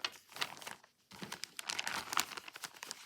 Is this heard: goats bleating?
no